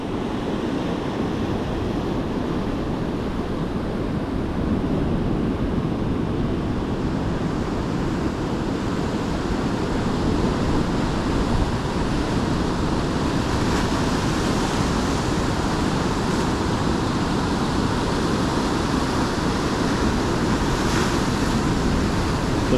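Heavy white water surges onto Isipingo Beach in rough conditions, an unbroken loud roar of crashing waves mixed with gusts of wind noise against the microphone.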